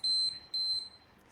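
A small, cheap timer gives two sharp high-pitched beeps, each about a quarter second long, loud and close, like a smoke alarm chirp, with silence between and after.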